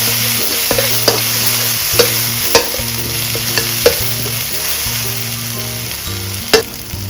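A pounded paste of shallot, garlic and fresh chili sizzles loudly in a wok, with regular knocks and scrapes of a spatula stirring every second or so.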